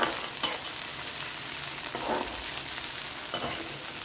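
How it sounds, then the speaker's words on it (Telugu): Chopped onions, green chilies and garlic fry in hot oil for a Telugu banana flower curry, a steady close sizzle with a few stirring scrapes, no voices. "ఇప్పుడు దీంట్లో కట్ చేసి పెట్టుకున్న ఉల్లిపాయలు, పచ్చిమిరకాయలు, వెల్లుల్లిపాయలు వేసి బాగా వేయించుకుందామండి"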